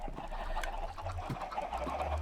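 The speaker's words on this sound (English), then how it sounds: "Only with older chickens, as you can hear." Minecraft chickens cluck in short, soft bursts over a steady low hum of game background noise, with no talking.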